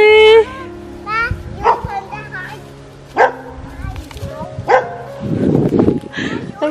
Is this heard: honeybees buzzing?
no